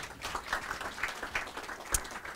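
A small audience at a Swedish software release event gives two presenters brief applause, with scattered, moderately loud claps in a loose irregular rhythm over a short stretch.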